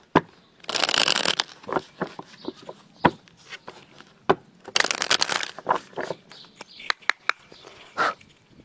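Tarot cards shuffled and cut by hand close up, with two long riffling bursts and many quick papery flicks and slaps in between, heard alone without talk.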